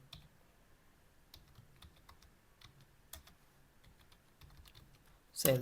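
Keys on a computer keyboard are tapped in quick irregular bursts while text is entered into a spreadsheet, quiet and close, ending with a louder clatter.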